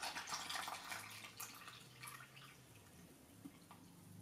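Liquid poured into a discount-store mug, a faint trickling, splashing pour with small drips, quiet and close, fading toward a low hum after the first couple of seconds.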